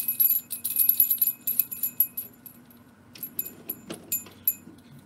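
A small bell jingles in quick bright clusters at the start, goes quiet, then tinkles again in short scattered shakes, close and fairly soft.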